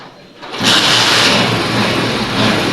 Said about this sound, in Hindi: तो चलें, मैं स्टार्ट करता हूं बाइक।